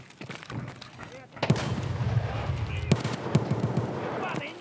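Gunfire rings out in the shooter game Escape From Tarkov as a run of distant shots and bursts, with a voice talking over it.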